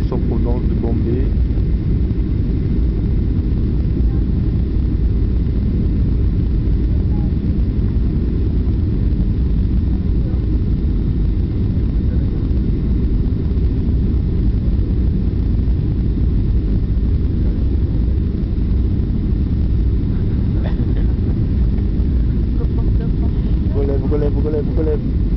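A 1970s airliner lands at Goa after a flight from Bombay, heard from inside the cabin as a loud, steady engine and airflow roar that continues throughout.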